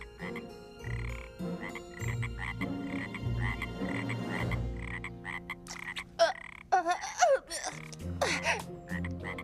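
A frog croaks repeatedly in a rapid, throaty series, loud and close, with several bursts of croaks following one another and no talk over them.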